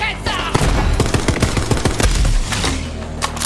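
Rapid bursts of Borderlands 3 gunfire, loud and close, with sharp shots rattling off in quick irregular clusters throughout.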